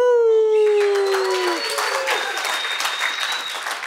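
Audience applause and whooping cheers at a live crypto show, opening with a long, falling howl-like whoop before a dense burst of clapping and shouts fills the room for the rest of the moment.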